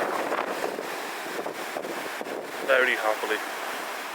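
Sea waves and wind at Waterfall Cove on the Scottish coast in winter, a steady broad rush of surf and gusting wind buffeting the microphone, with a brief spoken phrase over it.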